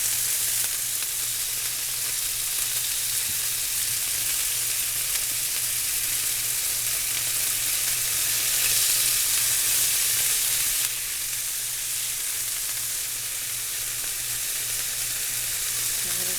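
Beef and vegetable stir fry sizzles steadily in a hot pan, a continuous close frying hiss with a low hum beneath, no talking.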